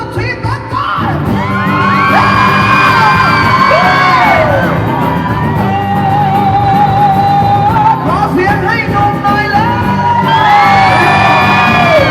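A concert crowd at a mobile expo in Thailand screams and whoops loudly and continuously, with high shrill cheers swelling in waves throughout.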